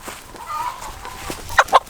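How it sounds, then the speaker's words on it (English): A chicken clucks and squawks while being caught, two sharp loud squawks closing out a short stretch of scuffling and softer clucks. "This chicken got out. Let's see how quick I can catch it."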